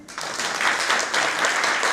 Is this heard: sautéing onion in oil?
no